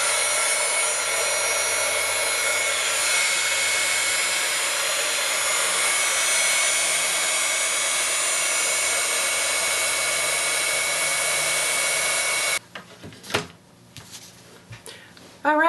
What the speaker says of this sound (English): Now I'm going to turn on the heat gun so I can set this